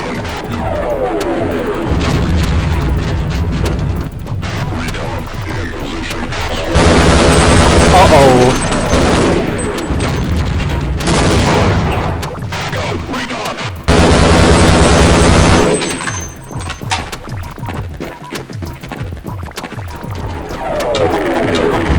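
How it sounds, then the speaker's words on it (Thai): Cannon fire in the Half-Life video game, heavy booming blasts and rapid gunfire bursts in loud repeated volleys, with a player's voice talking over parts of the action. "ยิงสิยิงสิปืนใหญ่อะยิงสิ"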